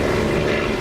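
Steady, loud drone of a propeller-driven airplane engine in the DCS flight simulator, a continuous even roar filling the moment with no break or talk.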